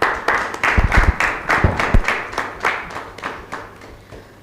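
A talk show studio audience applauds to welcome a guest, with loud, distinct rhythmic claps forming a steady beat that gradually softens; a host briefly greets the guest over the clapping.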